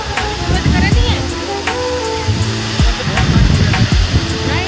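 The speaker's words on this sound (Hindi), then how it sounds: "वसुधारा का जल हमारे ऊपर गिर रहा है" Water from Vasudhara waterfall, a sacred fall near Mana village on the Badrinath route, pours down onto people close by. The steady, loud rushing roar goes on throughout, with voices mixed into the spray.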